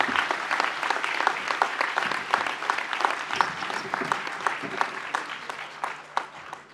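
A commencement ceremony audience applauds graduates who have just been presented. The clapping is continuous and moderately loud, with individual claps standing out.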